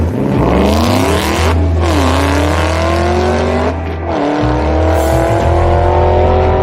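A Toyota Prius fitted with a 6.2-liter Hellcat V8 swap accelerating hard, a loud, raspy engine climbing in pitch through several gear changes with brief dips between shifts, close and with no talk.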